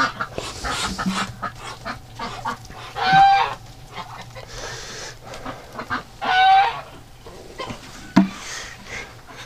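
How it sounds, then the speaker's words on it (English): Ducks and geese outside call in several separate bursts of honking and quacking, some louder and closer, with quieter gaps between the calls. "There's a bunch of ducks outside."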